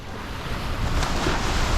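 Ocean waves wash onto a beach in Boracay, Philippines, a steady, loud broadband surf with some wind rush and no voices.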